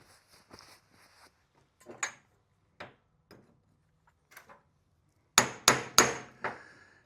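Metal tapping while seating an inner bearing into a Jaguar XJS rear hub carrier: sparse light knocks, then a cluster of four sharp, loud hammer strikes near the end.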